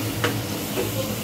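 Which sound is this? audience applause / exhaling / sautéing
sautéing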